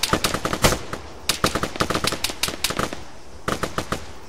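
Rapid bursts of automatic gunfire from a squad in the military shooter Arma 3, several volleys of close, sharp shots with brief pauses between them.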